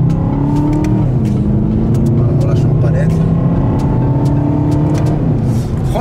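A diesel car accelerating hard on a test drive, its engine a loud, steady drone that rises in pitch, heard from inside the cabin with some talking over it.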